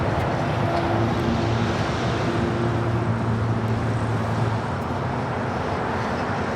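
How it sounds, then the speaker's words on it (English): Eva Air Boeing 777-300ER jet taking off from LAX, a loud, continuous, broad engine roar with a steady low drone that holds throughout and eases slightly near the end. "This is Eva Air Flight 5 taking off to Taipei on a 777-300ER."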